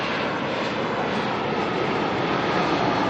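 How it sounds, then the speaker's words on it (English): A Jetstar airliner, flight JQ262 from Wellington, arriving at Auckland Airport, its jet engines giving a loud, steady broadband roar throughout, with no talk. "Jetstar coming in here from Wellington, JQ262"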